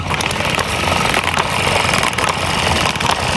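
A small hit-and-miss engine running on Coleman lantern fuel, a steady, busy mechanical chatter heard close up with a fast rhythmic ticking and faint sharper clicks scattered through it.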